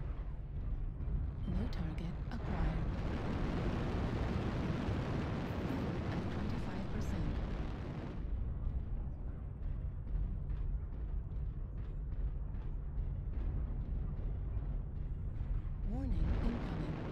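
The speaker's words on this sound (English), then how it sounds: "oh, ammo explosion?" Continuous booming blasts and crackling bursts from an ammo explosion in a video game, loud and dense, easing briefly before another surge near the end.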